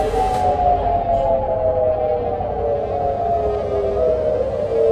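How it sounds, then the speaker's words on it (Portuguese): An air raid siren wails at Incirlik air base in Adana during a night attack, a long steady tone slowly sinking in pitch and filling the whole stretch at strong, even loudness. "sirenes de ataque aéreo soaram na base aérea de Incirlik"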